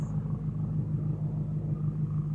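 An Audi R8 sports car with a big engine rumbles low and steady in Sunday afternoon traffic, a deep continuous drone with no voices over it.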